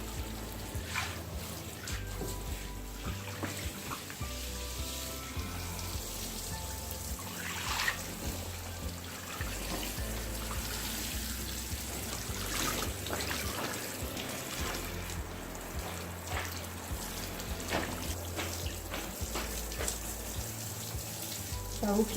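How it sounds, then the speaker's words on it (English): Tap water running steadily while a very large blanket is rinsed in a tub, a continuous splashing gush with sloshing fabric, close and even in level from start to finish. "Next we rinse it with clean water, and the water is still running dirty"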